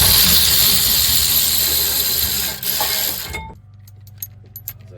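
Ratchet and impact-style tool noise removing 17mm brake caliper bracket bolts on a 2017 Hyundai Santa Fe, loud and continuous for several seconds before cutting off abruptly to a quiet garage with a few faint clicks.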